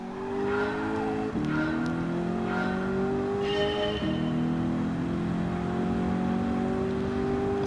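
A Ford Mustang 'Eleanor' in a racing video game revs hard and accelerates through rising engine pitch with two clear gear shifts, loud and continuous, with no talk.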